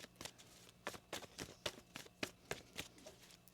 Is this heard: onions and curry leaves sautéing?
no